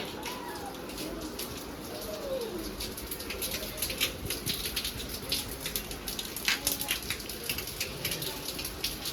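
Steady rain falls outdoors in Gujarat, a dense patter of drops hitting surfaces, with pigeons cooing now and then and a voice speaking faintly.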